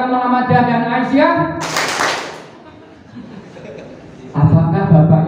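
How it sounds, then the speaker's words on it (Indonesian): An audience at a Muhammadiyah branch meeting claps briefly in a short sharp burst between stretches of a man's amplified speech, which resumes right after. "Kalau tidak setuju diam, setuju tepuk 2. Plok-plok."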